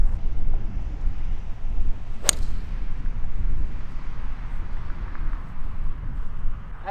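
Steady wind buffets the microphone on an open golf course, a low rumbling roar that runs throughout, with one brief sharp knock partway through. No one speaks.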